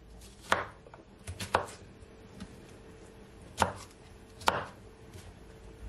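A knife chops cucumber on a cutting board for a juice recipe, with four or five sharp, distinct cuts, some in a quick pair, spaced unevenly over a quiet kitchen background.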